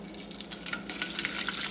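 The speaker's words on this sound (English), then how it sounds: "we're going to take this broth and we're going to strain it into this" Broth poured through a strainer into a small bowl, a brief faint trickle and splash with a few light drips over a quiet kitchen background.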